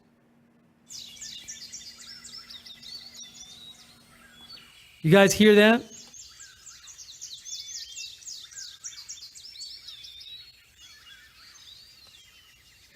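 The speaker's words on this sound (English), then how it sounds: "sent me a recording of the birds in her backyard" Several backyard birds chirp and trill in bright overlapping songs, moderately close, with a brief spoken question breaking in midway.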